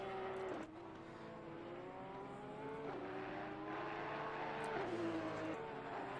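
Race car engines lap the Kyalami circuit in the racing game Assetto Corsa Competizione, rising and falling revs as cars accelerate and shift gears, a steady engine drone with several upshifts, fairly quiet and with no talking.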